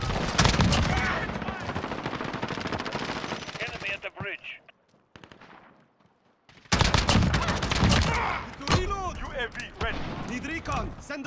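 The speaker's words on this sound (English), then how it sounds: "Ah, I'm taking fire." Gunfire in a first-person shooter video game, bursts of rapid automatic fire that drop away briefly into near silence and then return loud and dense, with game voices talking over parts of it.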